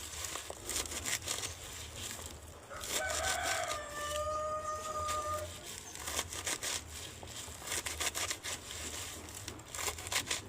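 A local chicken rooster crows once in the middle, a clear drawn-out cock-a-doodle-doo at moderate distance over faint rustling and background noise.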